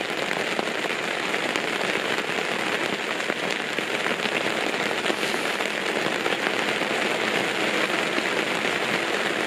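Heavy, cold rain hammers steadily on the roof of a Citroen Berlingo micro camper van parked at Rhos-on-Sea in Wales. The drumming is a dense, unbroken hiss with no voices.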